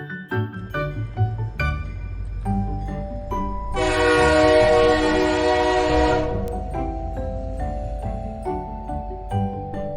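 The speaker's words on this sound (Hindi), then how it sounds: "ट्रेन रुकती है।" A train pulls into a station with a rumbling run and a sustained horn blast lasting about two seconds midway, heard alongside tonal background music.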